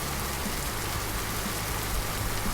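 Rain falls on a golf course, a dense, steady wash of hiss without pause, with a faint low rumble underneath.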